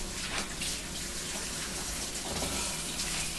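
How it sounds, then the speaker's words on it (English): Water from a kitchen tap runs steadily as hands get rinsed in a home kitchen, making a continuous close splashing rush with slight changes in texture and no speech. "And rinse my hands off."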